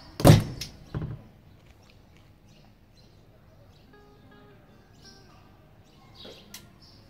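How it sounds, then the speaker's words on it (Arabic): A door slams shut in a gusty wind with a loud, close thud, followed by a softer knock a moment later; birds chirp faintly outside afterward. "طبعا طبش الباب"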